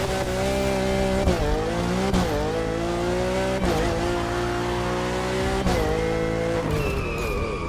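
A race car's exclusive Redliner engine kit in the video game The Crew Motorfest roars loudly and steadily, rising and falling as it shifts through gears, with faint tire squeal.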